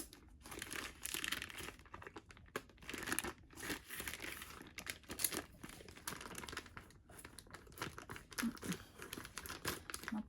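Packaging of a bone-in ham being crinkled, torn and cut open with dull scissors, a run of irregular rustling, crackling and snipping bursts close up, with no talk.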